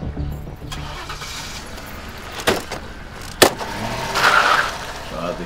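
A parked car's engine turns over and starts after a jangle of keys, with a sharp door-like thump; fairly quiet and close, with little talk.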